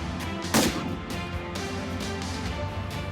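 A single sharp shotgun blast rings out during a dabbling duck and goose hunt at the Franval outfitter in Québec, cutting through a steady background of honking geese.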